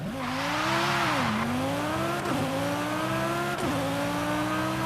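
A 2002 BMW M3-GTR starting off in Forza Horizon 5: a loud, close engine revving up through successive gear changes, each marked by a dip and renewed climb in pitch, with a brief hiss early on.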